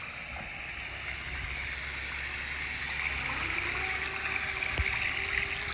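Recycled effluent water on a dairy farm feedpad flows and gushes steadily in the background, a constant rushing wash with a low mechanical hum underneath, fairly quiet.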